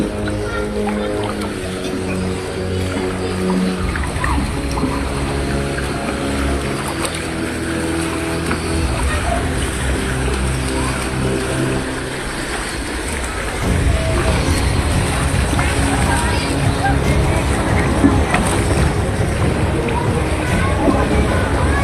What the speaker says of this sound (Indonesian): Udah jadi jalan rayanya udah jadi sungai guys.